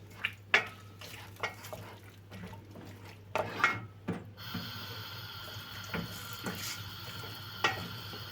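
Food being stirred and turned in a pan, with a series of distinct scraping and clinking strokes at irregular intervals over a faint sizzling background, close by and without speech.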